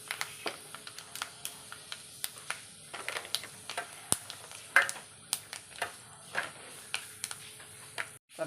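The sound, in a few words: mustard seeds and fenugreek sizzling in hot coconut oil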